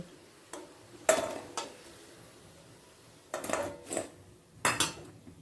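Fried pea-lentil fritters lifted from a pan with a metal utensil, giving a few sharp clinks and scrapes spaced over several seconds against quiet kitchen background, with no talk.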